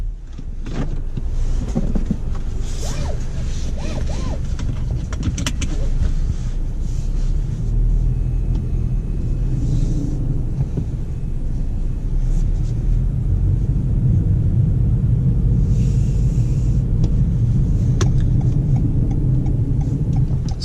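A 2019 Toyota Corolla Hatchback XSE on the road, heard from inside the cabin: a constant low engine and road rumble with steady tire and wind noise, fairly loud and unbroken, with no talking.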